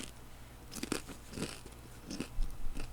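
Chips crunch between the teeth while being eaten, soft and close, with several crisp bites and crackles spread irregularly over a few seconds.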